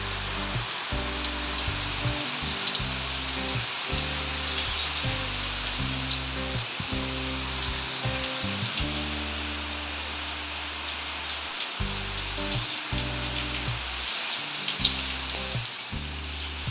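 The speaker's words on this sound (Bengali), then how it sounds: "আবারও বৃষ্টি পড়তে শুরু হলো, থেকে থেকে বৃষ্টি পড়ছে।" Steady rain pours down in a continuous close hiss of drops on surfaces for the whole stretch, with a low stepped tonal drone running underneath and no talking.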